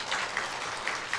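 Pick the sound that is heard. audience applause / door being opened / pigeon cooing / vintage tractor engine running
audience applause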